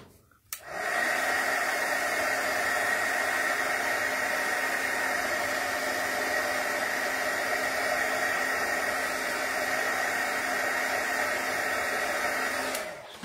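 A heat tool blows steadily while drying craft glue on a paper craft project, switching on abruptly and running at an even, loud, close hiss for about twelve seconds before cutting off.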